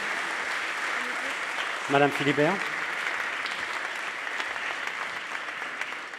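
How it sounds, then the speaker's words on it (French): An audience at a corporate diversity and civic awards ceremony applauds to welcome the award winners, steady clapping throughout while a presenter briefly speaks a name over it. "Merci de les applaudir et de les accueillir à nouveau."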